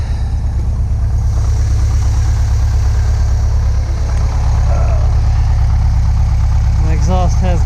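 A 1989 VW Vanagon engine idles while still warming up, a loud, steady, close low-pitched rumble with an even pulse throughout, and a voice is heard briefly near the end.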